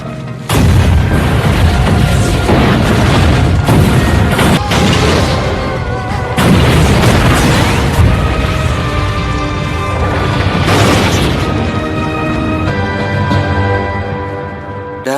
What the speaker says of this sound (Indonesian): ledakan mobil yang begitu dahsyat